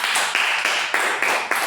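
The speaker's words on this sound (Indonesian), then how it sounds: "Tepuk tangan dulu buat kita semua." Students in a class clap their hands together in short rhythmic bursts, a few quick grouped claps repeating at a steady beat, fairly close and loud with no talking.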